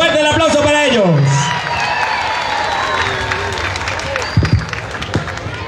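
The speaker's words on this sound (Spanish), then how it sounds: "¡Fuerte el aplauso para ellos!" Crowd clapping at an outdoor band festival in Villa del Rosario, a steady wash of applause that follows a brief brassy musical flourish, with a few louder claps and thumps near the end.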